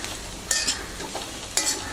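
A spatula stirs potato fry in a pan, two sharp scraping strokes over a steady close sizzle of frying spices.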